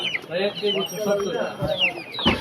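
Chickens at a market stall cluck and squawk steadily throughout, close by and fairly loud, under a busy background of people talking.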